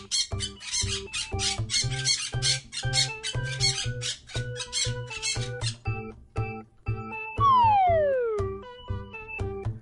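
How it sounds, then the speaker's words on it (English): Loud, close parrot squawks in rapid harsh bursts, followed by sharper squeaky calls and a long descending screech near the end, with no talking. "This is parrot."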